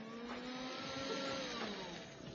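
A vacuum cleaner in a TV commercial gives a faint, continuous whirring hum with a slight rising and falling motor pitch and no speech.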